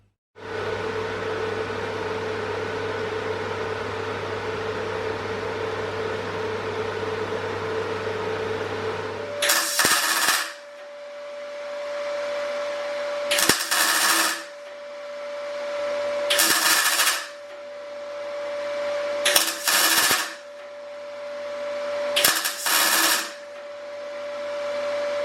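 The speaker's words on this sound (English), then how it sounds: "just do a standard butt weld using the Mig welder halfway along" A MIG welder runs short welding passes on a steel butt joint: five separate bursts of harsh crackling, each lasting about a second, over a steady electrical hum from the machine.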